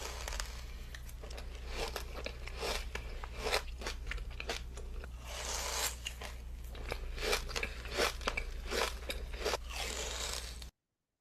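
Someone bites and chews a viral Dubai chewy cookie up close. Repeated crisp crunches and crackles come in an uneven rhythm over a low steady hum, with no talking.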